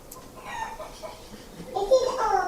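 A hen clucks in short, close bursts with rooster-like calls mixed in, set against a background of voices.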